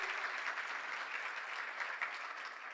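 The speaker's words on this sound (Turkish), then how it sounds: "bir güçlü alkış istiyorum Tuğba Hanım için" A studio audience on a Turkish daytime show applauds steadily for a woman guest, making a dense, even wash of many hands clapping throughout, with no clear talk over it.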